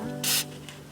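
A single short burst of Crown rust inhibitor sprays onto rusting brake parts of a Jeep Wrangler JL, a close hiss lasting a fraction of a second, followed by a faint second puff.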